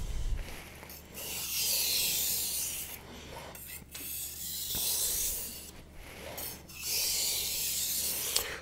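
Knife edge drawn across a 1K whetstone in edge-leading strokes for burr removal: three long, steady rasping scrapes separated by short pauses, close and fairly loud, with no talking.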